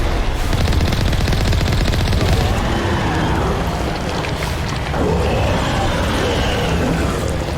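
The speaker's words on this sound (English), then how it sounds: "one more cannon round should do the trick" Heavy ship cannon fire in the video game Mass Effect, a dense, continuous barrage of rapid booming shots lasting throughout, loud and close with no pauses.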